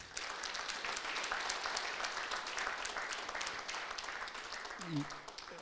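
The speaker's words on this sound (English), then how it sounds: "let's give a hand of applause" Audience at a rugby festival launch clapping steadily for several seconds at moderate distance, dense and even, with a brief low vocal sound near the end.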